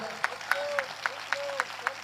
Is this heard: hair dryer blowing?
no